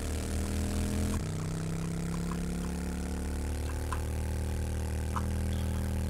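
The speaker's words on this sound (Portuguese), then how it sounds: "Moto parruda." Sturdy motorcycle engine in a 7 Days to Die mod, a continuous droning hum with a shift in pitch early on and faint clicks over it, no talk.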